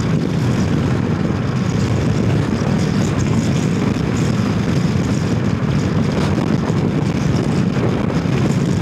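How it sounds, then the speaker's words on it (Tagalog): Strong wind buffeting a moving car on an expressway, a loud, steady roaring rush with constant low rumble throughout and no voices. "sobrang lakas ng hangin"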